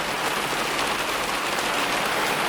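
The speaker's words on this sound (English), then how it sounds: "It's chucking it down now." Heavy rain pours down steadily outdoors during an afternoon tea, a dense, loud, unbroken hiss of drops striking surfaces close by.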